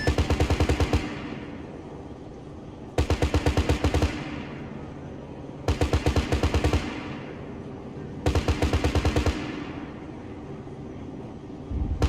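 Four sustained bursts of rapid aircraft gunfire in ArmA III, each a loud, dense rattle lasting about a second and decaying into a lingering echo, spaced evenly over a steady background drone.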